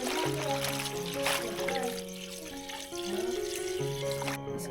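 A tap runs steadily into a sink as val bean pods are rinsed under it, with a continuous splashing flow and faint sounds in the background.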